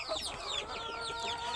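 A chicken kept in a basket, clucking softly and repeatedly at close range, with faint chirping of other birds in a quiet background.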